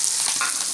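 Garlic fries in hot oil for a Tamil dish of vadicha kanji thalsam, a continuous bright sizzle with soft crackling bursts, close and steady throughout.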